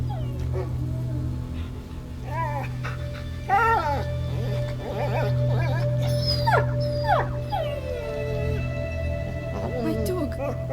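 Dog whimpering and whining in the video game A Plague Tale: Innocence, a series of high wavering whines and yelps over a steady low hum of game ambience.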